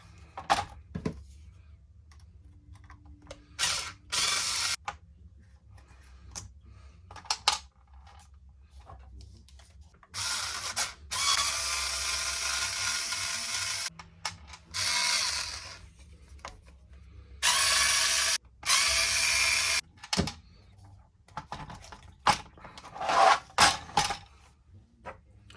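Screws are backed out of the rear bumper of a Team Associated Pro4 2021 long-wheelbase RC monster truck, heard as close, intermittent bursts of ratcheting and scraping tool noise separated by quiet pauses.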